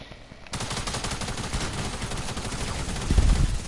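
Rapid submachine gun fire in a video game, a dense, loud stream of shots that starts abruptly after a brief quiet moment and runs continuously, with a heavier burst near the end.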